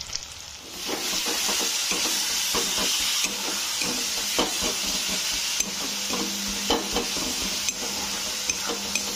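Vegetables and chicken frying in a pan with cumin and coriander powder, making a loud steady sizzle and hiss with repeated stirring scrapes.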